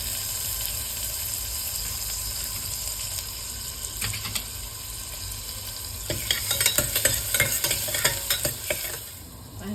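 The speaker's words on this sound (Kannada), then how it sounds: "ಜೀರಿಗೆ ಫ್ರೈ ಆಗ್ತಾಯಿದೆ ಈಗ ಇದಕ್ಕೆ ಶುಂಠಿ ಹಾಗೂ ಬೆಳ್ಳುಳ್ಳಿನ ಹಾಕ್ಕೊಳ್ತಾ ಇದ್ದೀನಿ" Ginger and garlic go into hot oil with cumin for a soybean curry, making a steady background sizzle that gives way to a busier stretch of stirring scrapes and crackles near the end.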